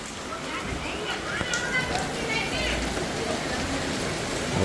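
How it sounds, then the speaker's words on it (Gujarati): Heavy morning rain falls in Surat, a steady hiss of drops on surfaces filling the background while a person talks over it. "જોરદાર વરસાદ અત્યારમાં આવી રહ્યો છે"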